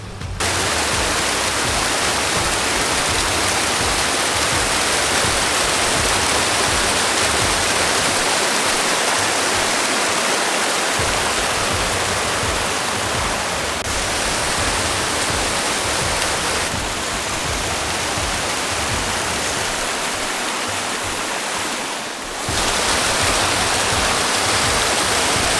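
A mountain waterfall at about 2,337 m roars steadily and close by, a dense, unbroken broadband rush of falling water that fills the whole stretch with no voices.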